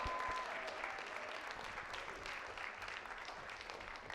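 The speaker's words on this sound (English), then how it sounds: "Let's give him another round of applause." An audience at a film panel and Q&A claps steadily in a continuous, moderately distant wash of applause.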